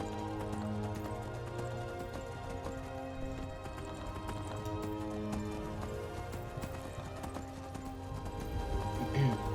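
Horse hooves clip-clop in a steady rhythm while riding in Skyrim, set against background music and game ambience.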